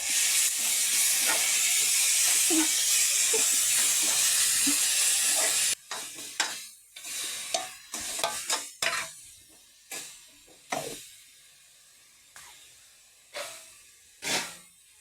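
Chicken and tomatoes frying in masala in a pan, a loud steady sizzle and hiss for the first half, then quieter sizzling broken by several sharp stirring scrapes and clatters against the pot.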